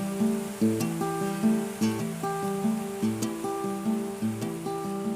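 A looping guitar riff from a lesson on a song, clean plucked notes repeating in a six-beat pattern with the last note held twice as long, steady and close, heard alone.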